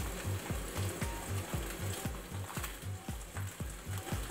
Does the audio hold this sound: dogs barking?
no